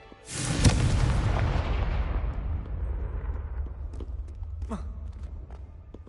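A Confringo fire spell in Hogwarts Legacy bursts with a single loud boom, then a long rumbling roar fades slowly while faint crackles and small impacts sound in the distance.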